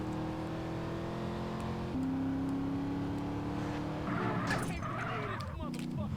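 A car in the video game GTA San Andreas drives and shifts gears, its engine droning steadily at changing pitch before tires squeal and the revs jump, with a voice talking briefly over it.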